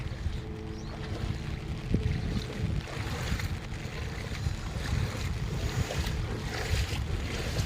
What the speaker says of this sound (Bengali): পানির এই শব্দটা